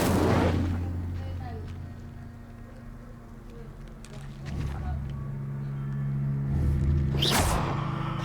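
Fire spell Incendio cast in the Hogwarts Legacy game: a burst of flame whooshes at the start, and further rumbling blasts and a sharp crackling flare follow later over low background drone.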